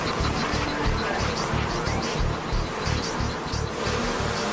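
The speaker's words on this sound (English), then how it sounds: "Okay, Rude, it's time to get these bees off" Bees swarming around a beekeeper, a loud continuous buzzing drone with pulsing wingbeat texture, close to the microphone and steady throughout with no talk.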